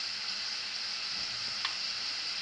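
Spices with asafoetida and turmeric sizzle in hot oil for a brinjal bharit made with dried shrimp, a steady, even frying hiss with one brief clink partway through.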